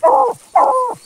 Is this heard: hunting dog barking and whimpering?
yes